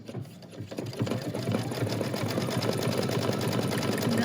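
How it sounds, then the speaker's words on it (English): Brother Luminaire embroidery machine stitching a decorative stitch across the top of a pocket, a steady fast mechanical whir with rapid needle ticking, close and continuous. "it stitches the decorative stitch across the top of the pocket"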